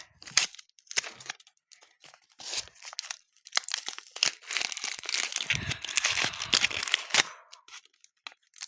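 Plastic packaging crinkles and rustles close by in irregular bursts, quiet at first and then busier and louder toward the end.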